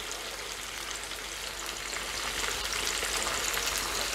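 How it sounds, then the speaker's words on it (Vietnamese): Chicken pieces sizzle in hot oil, a steady, even crackle and hiss that holds close and moderately quiet throughout with no talking. "Mình chiên khoảng chừng 1 phút rồi các bạn."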